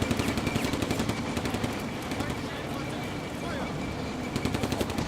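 Battle sounds from the Combat Mission: Afrika Korps video game, with steady rattling machine-gun fire and dull artillery thumps running continuously at a moderate distance, heard under a voice talking over the gameplay.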